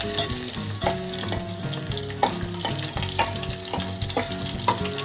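Crushed garlic and green chilli fry in a pan with a loud, close, continuous sizzle, stirred at intervals, while background music plays underneath.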